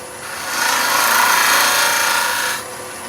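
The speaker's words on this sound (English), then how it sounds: "Just a drag cut, a pull cut from the gouge is enough." A gouge making a light pull cut on a wooden pendant spinning on a lathe, giving a steady close scraping hiss that swells for about two seconds and then fades back.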